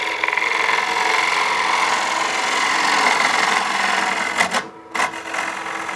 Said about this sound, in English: All right, so we'll use the bottom bowl gouge here.